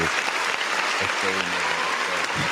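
A canned applause sound effect triggered by a button press, a steady wash of clapping and light crowd noise for a couple of seconds, with a voice speaking briefly over it.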